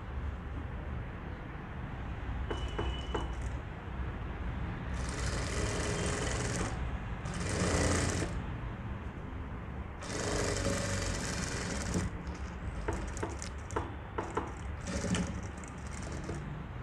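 A sewing machine stitching the side seam of a cross-cut blouse: a steady mechanical whir running throughout, with bursts of faster, higher stitching and a few sharp clicks, fairly loud and close, with no voices.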